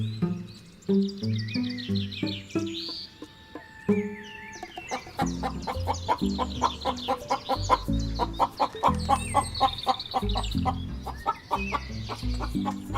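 A hen clucks close by in a rhythmic burst of short calls that grows busier and louder, with other fowl and birds chirping around her.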